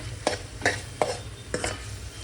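Bottle gourd curry is sautéed in a pan, with four spaced scraping strokes of a spatula over a soft, low sizzle and no voices.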